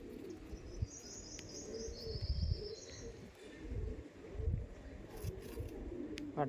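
Madrasi pigeons coo in low, throaty pulses at a pigeon sale, with scattered chirps from other birds overhead and a few brief voices in the background.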